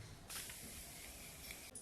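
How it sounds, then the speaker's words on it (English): Maracuja Miracle Mist setting spray misted over a made-up face, a soft airy hiss lasting over a second, faint and close in a quiet room, with a brief click at the end. "Now I'm just going to finish with the Maracuja Miracle Mist Setting Spray."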